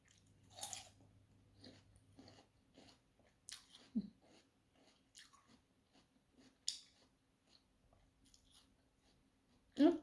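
Crunchy snow lotus (yacon) being bitten and chewed close up, with scattered crisp crunches and soft breathing between bites.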